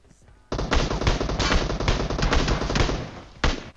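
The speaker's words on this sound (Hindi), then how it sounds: "अब एसकेएस में 4x से आगे गोली गोली चल रही है" Rapid, loud bursts of SKS rifle gunfire in the PUBG Mobile video game, sustained shot after shot for about three seconds before stopping abruptly.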